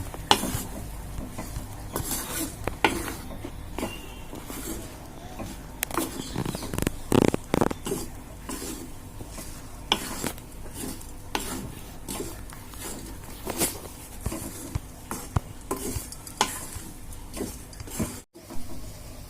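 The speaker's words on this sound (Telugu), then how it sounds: "ఇందులోనే మనం వేయించుకున్న బెండకాయ ముక్కలు కూడా వేసుకున్నాం ఇదంతా కలుపుకుందాం" Fried okra pieces being stirred in a pan: repeated close scraping and rubbing strokes over a soft sizzle, with irregular clatter and no talking.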